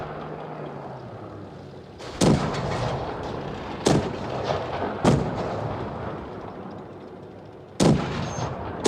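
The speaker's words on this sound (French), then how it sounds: "Je tire avec 3 coups." Tank cannon shots in the World of Tanks Blitz video game, with several loud, sharp booms spaced a second or more apart over a steady rumbling game background.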